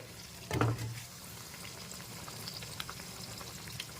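Pea-stuffed kachoris deep-frying in oil while being turned: a quiet, even bubbling sizzle, with one brief louder splash or clunk near the start and faint crackles scattered after it.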